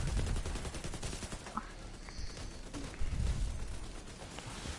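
Rapid gunfire from firearms in The Division 2 video game, dense bursts of shots in a sustained firefight with no talking.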